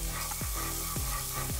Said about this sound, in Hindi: कुकिंग ऑयल के बाद जो है वो हम लेंगे अदरक लहसुन का पेस्ट 1 टेबल स्पून। थोड़ा सा फ्राई कर लेते हैं हम।